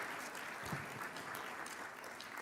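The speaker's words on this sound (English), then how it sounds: "give them a round of applause" A crowd applauds through a school summer program's closing ceremony, steady dense clapping heard from some distance, fairly soft and continuous with no voices over it.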